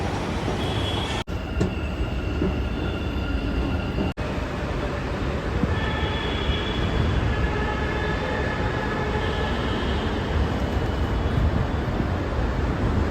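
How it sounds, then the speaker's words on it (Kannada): A metro train rumbles steadily into an enclosed underground platform, with faint high squeals from the wheels and a continuous low roar as it approaches. "ಈಗ ಟ್ರೈನ್ ಇನ್ನೊಂದು 2 ಮಿನಿಟ್ಸಲ್ಲಿ ಬರುತ್ತೆ."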